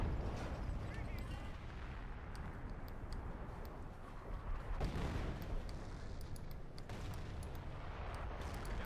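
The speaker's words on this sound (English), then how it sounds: "got the Priest firing" A Priest self-propelled artillery gun fires in the strategy game Company of Heroes, its heavy booms thudding through a dense, continuous din of battlefield rumble and gunfire, with the loudest blasts landing near the middle and end.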